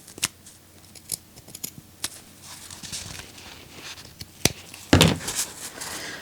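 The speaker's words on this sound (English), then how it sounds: "I'm just going to cut some material out" Sharp, close snips of scissors cutting boucle sofa fabric for miniature dollhouse furniture, scattered irregular cuts with a louder crunchy burst near the end and light handling noise between.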